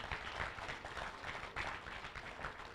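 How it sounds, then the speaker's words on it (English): Audience applause from a crowd at a labour ministry road show in Manchester, a steady, faint wash of clapping throughout with no talk over it. "Give them a round of applause."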